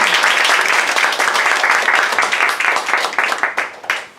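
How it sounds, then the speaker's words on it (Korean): Congregation applause at a bilingual Korean and Japanese church service, brisk dense clapping from a room of people that gradually thins and tapers off over a few seconds. "拍手をお願いします。"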